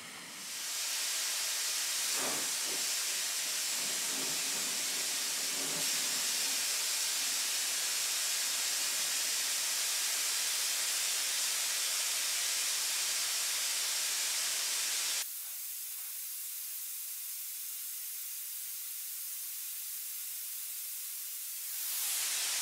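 Compressed air jet hissing steadily from a nozzle that levitates angled convex objects, a loud continuous close hiss that suddenly drops to a quieter, thinner hiss partway through, with no talk.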